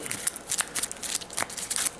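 Quiet, close riffle of a big stack of board wargame cards being shuffled by hand, with quick papery flicks repeating in an irregular rhythm and no voices.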